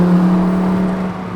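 A Lamborghini Huracan EVO engine hums loudly and steadily at close range in a short continuous burst, a strong low drone with no talking over it.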